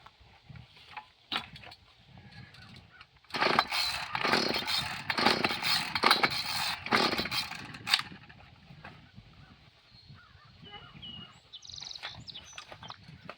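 Small primed garden engine pulled over on full choke, giving a loud, close burst of sputtering, uneven firing for about four seconds before it cuts out, with quieter mechanical clicks and knocks before and after.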